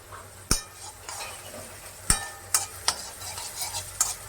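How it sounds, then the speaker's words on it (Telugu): Capsicum frying in a pan while being stirred, a soft continuous sizzle broken by several sharp clinks of a utensil against the metal, close and fairly quiet. "ఈ లోపల క్యాప్సికమ్ ఎంతవరకు ఫ్రై అయిందో చూసేద్దాం"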